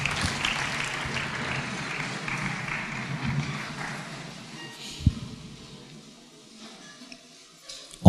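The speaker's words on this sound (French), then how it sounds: "Acclamons la parole." Congregation applauding during a French-language church sermon, a broad wash of clapping that swells for several seconds and then fades into quieter room sound with a single thump near the end.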